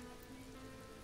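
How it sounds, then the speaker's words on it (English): Heavy rain pouring down in the survival game Mr. Prepper, a steady dense hiss of drops on surfaces with no pauses or voices. "it pretty much fills almost instantaneously with a heavy downpour like this"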